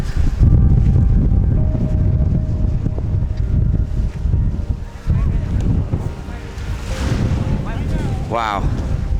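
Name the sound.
strong wind in Antarctica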